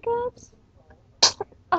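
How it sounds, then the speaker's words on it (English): A young child sneezes once, a short sharp burst up close, followed by a smaller breathy sound and another brief sneeze-like burst; a vocal sound is heard just before. "You sneezed all over me."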